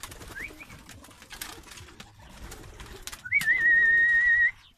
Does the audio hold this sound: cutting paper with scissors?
no